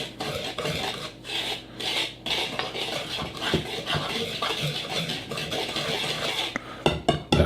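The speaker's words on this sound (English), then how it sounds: "Now we're going to add in the cornmeal. Again, I'm going to use the whisk." A whisk scrapes and rasps steadily against a bowl while cornmeal is worked into muffin batter, a continuous rough stirring with a few light clinks near the end.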